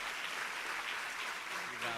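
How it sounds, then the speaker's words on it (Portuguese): Applause from a church congregation at an evening service, a steady dense wash of clapping held throughout at moderate level. "Aplaudindo o nome de Jesus."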